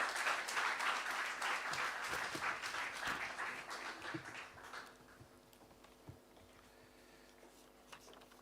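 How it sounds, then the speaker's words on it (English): An audience at a conference on African macroeconomic outlook applauds a speaker coming to the podium, a full burst of clapping that thins out and fades into a few scattered claps and quiet room noise. "Please give him a warm round of applause."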